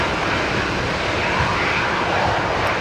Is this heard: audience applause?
no